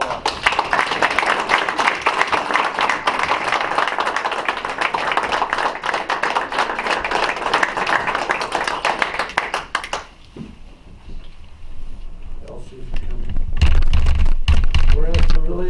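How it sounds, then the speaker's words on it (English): Applause at a city council meeting, a sustained round of clapping from a modest crowd for about ten seconds that then stops, followed by quieter room noise and a low rumble. "Let's give Elsie Williamson a round of applause"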